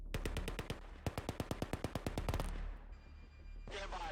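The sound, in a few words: gunfight gunfire in Command and Control 3 video game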